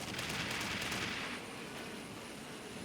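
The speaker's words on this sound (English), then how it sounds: "Taking fire!" Gunfire in the video game F.E.A.R. Perseus Mandate, a rapid burst of crackling shots that is loud at first and then drops away to a softer noisy rumble.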